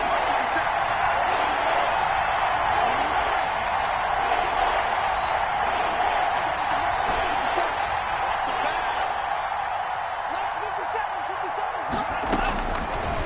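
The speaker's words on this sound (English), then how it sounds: "The crowd getting into it as we come up on a big 3rd down." Stadium crowd at a football game roaring steadily ahead of a big third down, a dense sustained wash of cheering and noise with a commentator's voice over it and a few sharp claps near the end.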